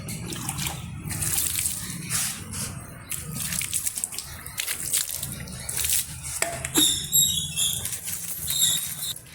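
Water is poured and splashed into a container to bathe a pet dog. The pours and sloshes come in uneven bursts, fairly close, with a little faint background sound.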